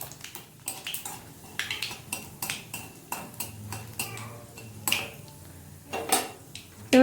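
Black cumin and dried chillies being stirred in hot oil for a small-fish curry, with repeated sharp clinks and scrapes of a utensil against the pan over a faint background sizzle.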